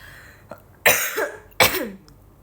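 A young woman on a live stream coughs twice in quick succession, each a loud, harsh burst close to the microphone, with a faint throat sound just before.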